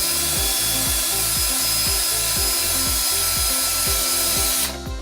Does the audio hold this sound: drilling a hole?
yes